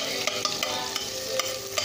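White onion sizzles in a hot pan with a steady frying hiss, punctuated by regular clicks and scrapes of a utensil stirring about every half second, close and without talk.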